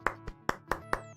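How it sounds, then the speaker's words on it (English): Slow, sparse handclapping in the manner of a polite golf clap: about five distinct claps spaced roughly a quarter second apart, close and moderately loud, with no talking. "Golf clap."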